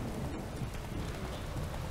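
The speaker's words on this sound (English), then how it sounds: "Obviously it's raining, but that shouldn't be the reason." Steady rain falls in the video game Witcher 3: Wild Hunt, a dense, even hiss of moderate loudness that carries on without a break and with no voices over it.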